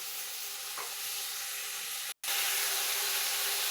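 A paste of onion, tomato and spices fries in a pan for a mushroom curry, making a steady close hiss of sizzling oil that cuts out for a split second before resuming.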